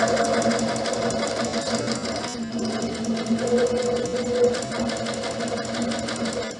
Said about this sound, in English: I'm going to push my reverse button and backstitch all the way back to the edge